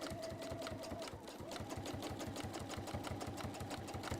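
A domestic sewing machine runs a steady, fast stitching rhythm for the whole stretch, close and even, stitching a bottom line of a sewn item, with no talking.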